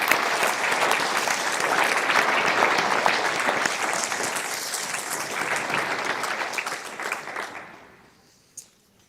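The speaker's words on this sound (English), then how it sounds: "Please join me in a round of applause of all of our employers" A crowd applauds employers and community members at a military police welcome home ceremony, a loud sustained wave of clapping that tapers off and ends, followed by a single stray clap.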